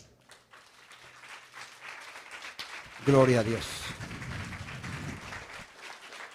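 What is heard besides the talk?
church congregation applause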